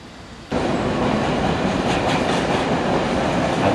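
A train rolls along a railway line in Istanbul, its loud, steady rumble and rattle of carriages starting abruptly and continuing close by without a break.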